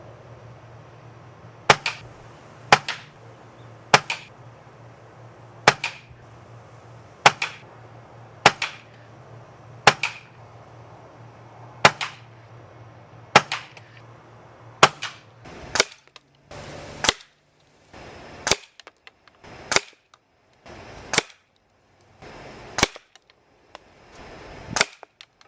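A Gamo Arrow .22 PCP airgun fires about twenty sharp, close cracks at a target, spaced roughly one to one and a half seconds apart, over a low background hum.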